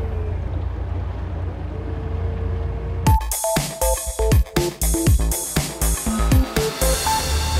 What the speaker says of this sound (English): now the motor will turn and steer me towards that waypoint